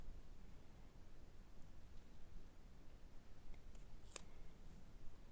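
Paper cardstock being trimmed for a handmade card: a soft, steady papery rustle under faint background hiss, with one crisp cutting snap near the end.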